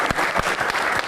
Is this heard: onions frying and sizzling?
no